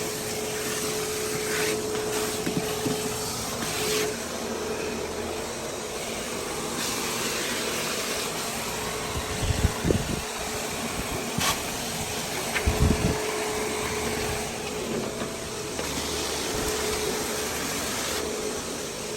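A DeWalt Stealthsonic canister vacuum runs steadily and close by with a broad, even whooshing roar and a constant motor whine, with a couple of brief thumps partway through.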